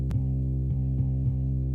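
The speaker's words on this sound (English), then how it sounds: "One is just an actual bass guitar playing this rhythm." Bass guitar in a beat playing a steady rhythm of deep, sustained low notes with soft plucked attacks repeating about every quarter second to half second, alone and fairly loud.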